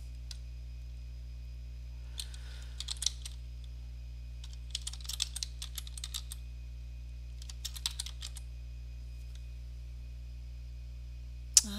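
Clicky bursts of typing on a computer keyboard while entering a structural framing search in Revit Dynamo, arriving in three separate flurries of quick keystrokes over a steady low hum, fairly faint and close.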